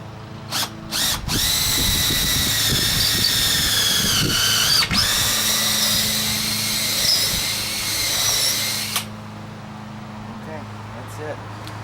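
A cordless power drill bores a hole while building a wooden beehive stand, the loud whine revving up in long bursts with brief stops, a person talking underneath and a lawnmower droning faintly in the background.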